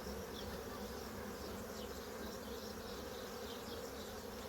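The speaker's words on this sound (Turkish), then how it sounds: "Arılar biraz sakinleşsin. Böyle bir toplansın bir araya." Honeybees buzzing at an opened beehive during a June hive inspection, a dense continuous drone of many insects that stays steady and close throughout, with no talking.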